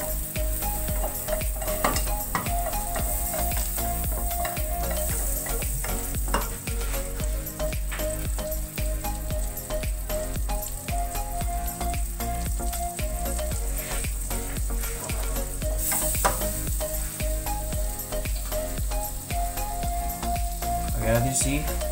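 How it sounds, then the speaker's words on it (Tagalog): Pork hock adobo with garlic sizzles steadily in a pan while being stirred, a loud continuous frying hiss with occasional utensil scrapes throughout. "Mix na natin agad para mabilis."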